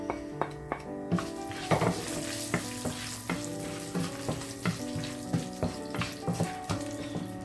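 Fennel seeds sizzle in hot oil for a chicken biryani, a steady close crackle broken by regular clinks of a stirring spoon against the pot, quiet and without talk.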